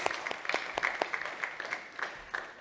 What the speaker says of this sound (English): give yourself a round of applause because you've made it. Round of applause.